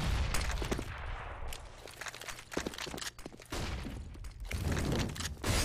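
MAC-10 submachine gun fire in a Counter-Strike esports match, with rapid bursts of crackling shots and a few thuds and footsteps, loud and dense, cutting out briefly before the fire resumes.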